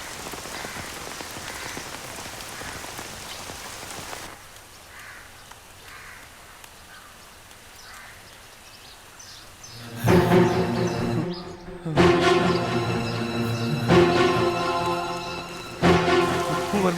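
Heavy rain pours down steadily, a dense close hiss that fades for a while, then returns louder alongside crows cawing repeatedly nearby.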